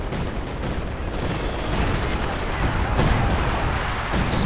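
Artillery fire pounds steadily in Company of Heroes 2, loud overlapping booms and blasts merging into a dense continuous barrage.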